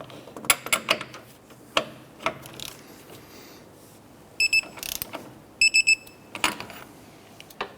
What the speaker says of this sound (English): Now let's go ahead and torque these nuts down to 89 foot-pounds.